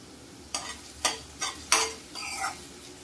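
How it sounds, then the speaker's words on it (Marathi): Onion and a few curry leaves are sautéed in a pan, with four or five sharp spatula scrapes and stirs over a soft, steady sizzle, then a longer stirring swish. "तर हा कांदा जो आहे तो आपल्याला चांगला परतवून घ्यायचा आहे"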